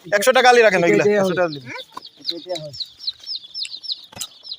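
Chickens cluck and chatter in short repeated bursts, fairly close, with a person speaking over the first part.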